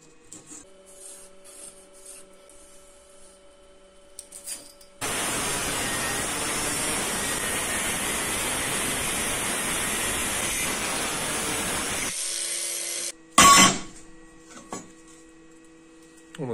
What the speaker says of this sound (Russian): Я уже подготовил лист металла, будем сейчас вырезать.